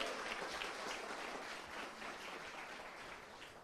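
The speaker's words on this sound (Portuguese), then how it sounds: "Pode aplaudir de novo." Audience applause at a lecture on the Ark of the Covenant, a steady, faint wash of many hands clapping that continues without a break, no speech over it.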